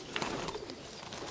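Pigeons cooing and calling inside a breeder's aviary, a dense steady chorus of birds close by with low murmuring throughout.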